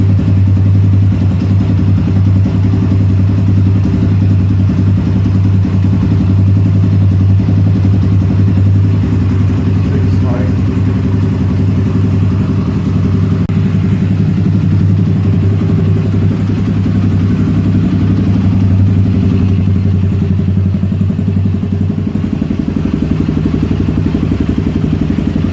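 A Zongshen 250cc dirt bike engine, freshly rebuilt with a new piston, runs loud and close with a steady low drone and slight rise and fall in revs, continuous for the whole stretch with no talking.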